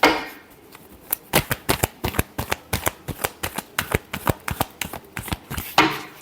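Tarot cards being shuffled by hand give a run of crisp riffling snaps, close and steady in rhythm, with no talking over them.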